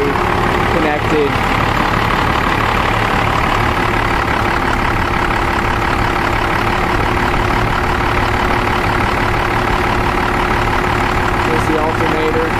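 A Dodge Ram's Cummins 12-valve diesel engine idles steadily after a cold start, giving a continuous, loud, even clatter and rumble at close range throughout.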